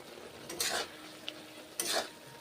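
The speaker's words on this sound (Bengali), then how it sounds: "নুন হলুদ দিয়েছি, নেড়ে চেড়ে কষে নিচ্ছি।" Lentils with salt and turmeric are stirred in a pan over a faint steady sizzle, with two soft scraping strokes of the spoon and a small clink between them, quiet and close.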